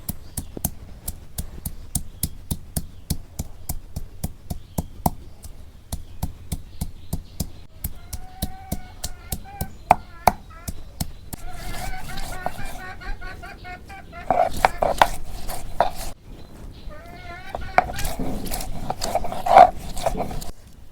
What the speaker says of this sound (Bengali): এখন আমি পেঁয়াজ বাইডা নিই।